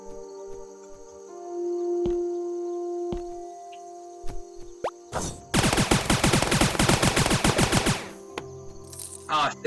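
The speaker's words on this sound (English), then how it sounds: "these dual machine pistols are pretty good." Dual machine pistols in the video game Starbound unleash a dense burst of rapid-fire shots lasting about two and a half seconds, loud and close, with a brief second burst after, amid sparse game effects and no talking.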